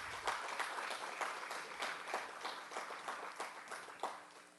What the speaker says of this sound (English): can we get a round of applause for that wonderful